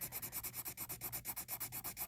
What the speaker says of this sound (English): hold your paper down, and really just kind of get in there and burnish those colors together